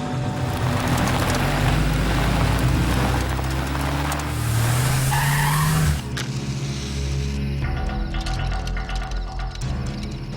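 A car speeds away hard, its engine revving up loudly while tires squeal and skid across the road, then the roar carries on with rattling and noise for several seconds.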